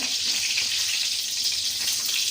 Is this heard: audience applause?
no